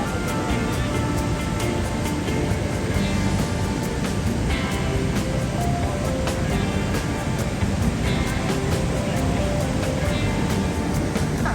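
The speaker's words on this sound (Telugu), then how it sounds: "చూస్తున్నాను కదా అత్తిరపల్లి వాటర్ ఫాల్స్." Athirapally waterfall in Kerala, a constant loud broadband roar of rushing, crashing water heard up close, unbroken for the whole stretch, with faint voices in the background.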